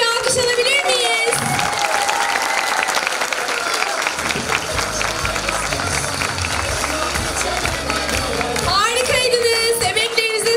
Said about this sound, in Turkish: tüm çocuklarımıza kocaman bir alkış alabilir miyiz?